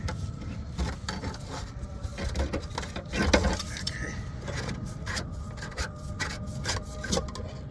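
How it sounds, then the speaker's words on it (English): An oil filter spanner grinds and scrapes against a fuel filter on a 1979 Cadillac Seville fuel pump, giving irregular rubbing and ratcheting bursts up close. "I'm using an oil filter spanner."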